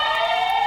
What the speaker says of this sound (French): Vous entendez derrière moi les sirènes, les secours sont en route.